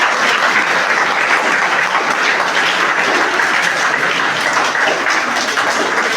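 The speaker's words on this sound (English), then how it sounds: "can you give me a big round of applause?" Steady, dense applause from a class audience at the end of a leadership session fills the whole stretch, loud and even, with no voices over it.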